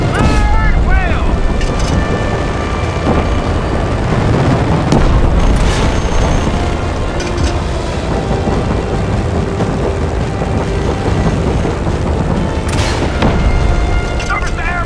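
Explosions and missile fire in a video game, with dense, continuous booms and blasts in a loud battle that never lets up, while a voice talks over the action.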